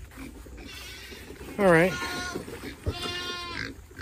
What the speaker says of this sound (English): Pigs will start getting fired up here in a second.